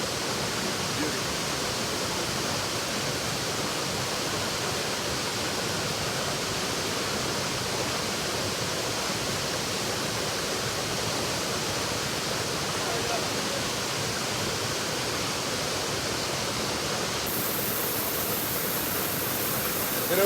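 Waterfall at Eldama Ravine in Baringo County, a steady, dense roar of rushing water that stays loud and unbroken throughout.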